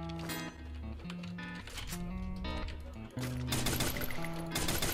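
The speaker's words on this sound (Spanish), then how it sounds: "Escucho balas ahí, güey. Balazos. Balazos y más balazos" Gunfire in the video game Free Fire, with shots crackling over a layer of steady game music and noise.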